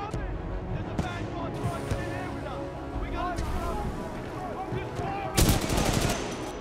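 Rapid gunfire from Titanfall 2 combat crackles steadily under game voices and chatter, with a louder burst of shots and impacts near the end.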